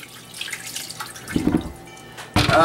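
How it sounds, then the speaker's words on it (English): Water from soaked chickpeas poured off, a thin dripping trickle that builds into a steady splashing pour near the end. "we're going to pour the water off of them"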